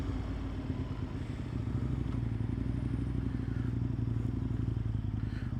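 Engine of a 2025 Suzuki GSX-8R motorcycle running steadily with a low, throbbing rumble at constant level, no voices.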